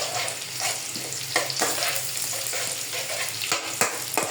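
Bitter gourd and tomato sautéing in a pan for ginisang ampalaya, a steady close sizzle with broadband frying hiss and a few brief stirring scrapes, no voices.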